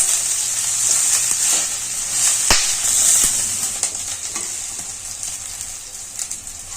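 Cabbage and capsicum sizzling and frying in a pan, a steady hiss with occasional sharp clacks of stirring, no talking.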